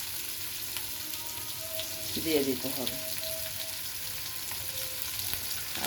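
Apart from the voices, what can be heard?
frying in mustard oil in a pan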